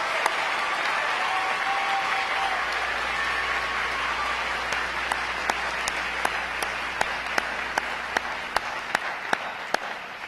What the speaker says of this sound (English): join me in congratulating our newest sailors in the Navy, a round of applause